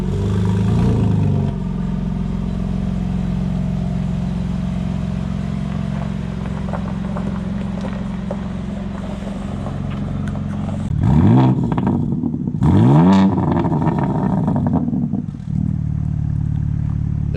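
A 2024 Ford Mustang Dark Horse V8 with its exhaust set to track mode, the car itself in normal mode, drones loudly and steadily up close, then swells through two quick revving surges before settling back to a deep rumble.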